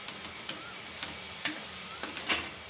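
Ridge gourd and potato curry gets stirred in a hot pan, a soft sizzle underneath with several sharp scraping clicks of a spoon against the pan at irregular intervals.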